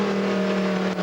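A race car engine in the FIA GT 2003 racing game holds a steady, loud high-pitched drone at high revs in fifth gear, with no talk over it.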